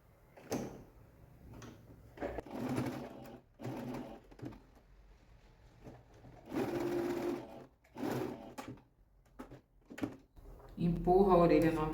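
A sewing machine stitches fabric for an Easter bunny bag, sewing along the ear tips, with a sharp whirring run near the end after stretches of nearby talk and handling noises.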